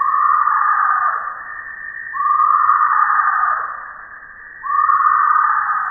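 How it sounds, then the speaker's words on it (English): Tree hyrax, a small furry African mammal, calling in a clear, loud repeated cry. Three long rising-and-falling phrases follow one another at a steady pace against a quiet background. "This is the call of the tree hyrax, a small furry mammal that looks like a cross between a groundhog and a ground squirrel"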